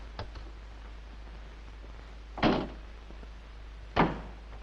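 A door in a quiet room is shut, with a faint click at first, then two solid thuds of the door closing, spaced about a second and a half apart over a low hum.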